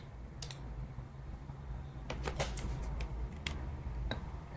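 Computer keys pressed up and down on a keyboard, a scattered run of light clicks and taps over a steady low hum, close by, with no talking.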